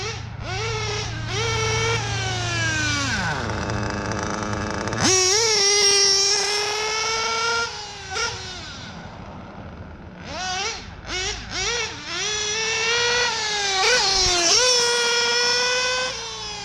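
A modded RC nitro car, a Triton L5 engine fitted with a Nova race carb, warms up with a loud, high-pitched buzzing drone that repeatedly revs up and drops back, one long dip sweeping low before climbing again.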